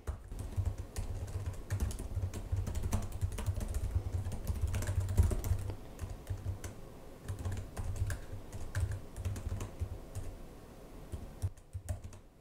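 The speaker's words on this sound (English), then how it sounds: "Let's give a quick type here." Quiet, quick keystrokes tap steadily on a Lenovo Legion 7i Gen 9 (2024) laptop keyboard, close by, over a low background hum, pausing briefly near the end.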